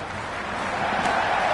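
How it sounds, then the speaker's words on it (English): Broad, steady roar of a raucous stadium crowd in a Cricket 26 T20 match between Pakistan and Afghanistan on PS5, a dense wash of massed voices that holds level throughout. "The crowd are really getting quite raucous."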